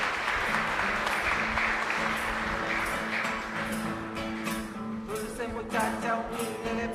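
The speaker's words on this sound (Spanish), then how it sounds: "Fuerte aplauso para el Señor." A church congregation applauds at the close of Mass at a parish in Asunción, the clapping fairly distant and reverberant, with sustained organ or keyboard tones ringing underneath.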